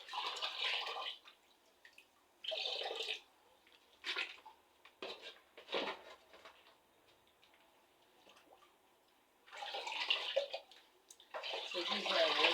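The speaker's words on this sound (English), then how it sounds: "So this is how I wash the rice." Rice is washed by hand in water in a village kitchen, with intermittent sloshing and splashing bursts of moderate loudness, separated by quiet pauses, heard close up.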